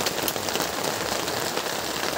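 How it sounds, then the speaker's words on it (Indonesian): Heavy rain pours steadily at night onto a small hut, a dense, loud, unbroken hiss of drops with wind, no voices. "Walaupun udah angin bertiup, diguyur hujan"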